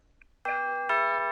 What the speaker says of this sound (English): I think I better go and find the doorbell there and see if my guest is ready to come on